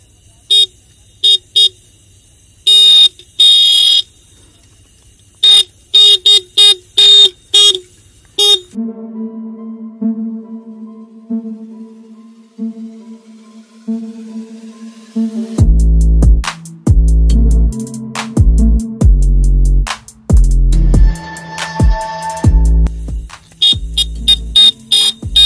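An electric horn fitted to a bicycle and charged from a 12-volt adapter blares close and loud like a motorbike horn. Short repeated honks give way to a sustained tone, then heavy pulsing bursts.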